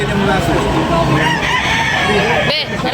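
Roosters crow loudly and repeatedly at a busy chicken market in Tabunok, their overlapping calls mixed with clucking and the murmur of people talking nearby.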